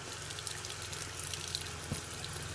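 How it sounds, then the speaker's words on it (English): Running tap water splashes steadily into a sink while a makeup brush is rinsed of foundation, a close, even, faint flow. "So then just rinse the rest of the foundation out of your brush."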